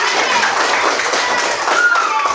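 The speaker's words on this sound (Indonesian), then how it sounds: "tepuk tangan untuk semuanya" Dense applause from a group of teachers in a coaching training session, a continuous wash of many hands clapping at once with voices mixed in beneath.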